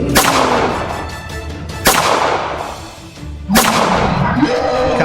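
Gunshots fired repeatedly at a door as a sound effect, three loud sharp blasts spaced under two seconds apart, each with a booming echoing decay.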